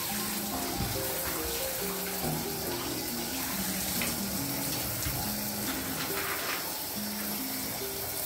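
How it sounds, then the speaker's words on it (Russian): Cold shower water pours in a steady loud hiss, a continuous spray with faint tonal hum underneath. "Это контрастный душ, он всегда холодный для оздоровления."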